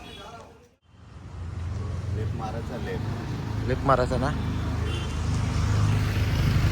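A car pulls away toward a hotel near Rameshwaram, its steady engine and road rumble rising and holding under several people talking and calling out, close and continuous after a brief dip at the start.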